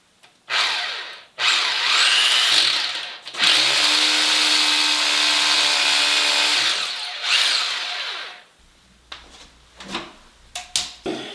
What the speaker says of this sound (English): First hole in, a good concrete drill saves you a lot of time doing this.